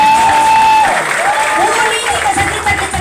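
Clapping from a seminar audience at a business training event, sustained and fairly loud, with a voice speaking over the applause.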